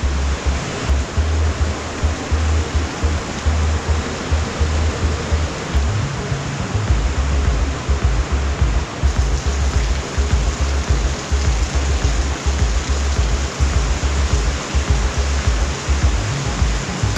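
High water rushes through an underground cave, a loud, constant roar of churning flow with a heavy low rumble, unbroken and close, with no voices.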